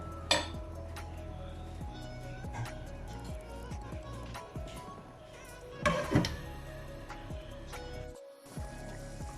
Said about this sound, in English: So I'm just going to cover with the lid and let this cook for 5 to 10 minutes.